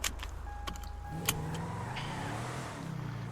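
Car engine in a roleplay driving game, cruising steadily with a continuous low rumble, a brief whine and a sharp click early on, then an even drone to the end.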